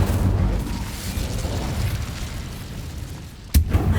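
A burst from the Incendio fire spell in Hogwarts Legacy lands as one sharp, loud blast near the end, following a steady low rumble of game ambience.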